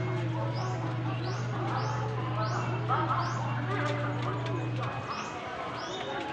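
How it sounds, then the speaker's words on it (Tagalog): Pet pigeons coo in a rooftop loft, with soft repeated cooing and a few chirps close by over a steady low hum that cuts out near the end. "Mga kalapati."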